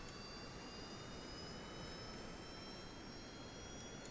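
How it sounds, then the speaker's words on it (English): Aircraft jet engines at max thrust in the Kerbal Space Program video game, four engines on a plane with brakes off, a constant loud roaring whine with a faint high tone, steady and alone. "all 4 engines are on."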